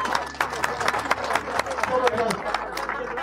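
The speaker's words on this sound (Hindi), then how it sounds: "भरपूर तालियां।" Audience applause for the guests on a Pakistani morning show broadcast from Gilgit-Baltistan: a steady wash of scattered clapping that lasts about three seconds, with a low hum running underneath.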